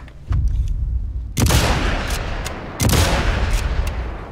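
Gunfire strikes the player in the Sniper Elite 5 shooter, with sharp, heavy impacts and booming shots in a few bursts over a constant loud rumble of battle.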